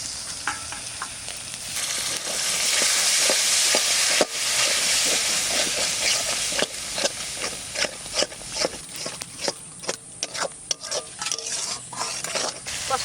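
Spice paste with turmeric, salt and yogurt sautéing in oil for an egg curry: a loud, steady frying hiss, joined by a regular run of close spoon strokes scraping the pan through the second half.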